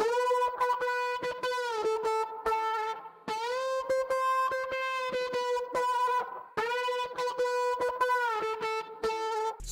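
A dry synth note from the Arturia Arcade Alien Blues bank, pitched at F5, plays over a choppy, stuttering rhythm. It repeats in sustained phrases of about three seconds, with a short gap between each phrase.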